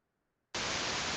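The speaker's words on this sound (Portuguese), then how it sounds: "Aí a gente adiciona ruído e reverberação." Loud, steady broadband static noise is added to a test recording. It cuts in abruptly after a near-silent start and holds evenly to the end.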